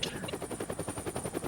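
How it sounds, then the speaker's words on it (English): Helicopter in the video game Incredible Crisis, a rapid, steady rotor chop with rhythmic pulsing and a high whine, loud and alone. "Get on a helicopter."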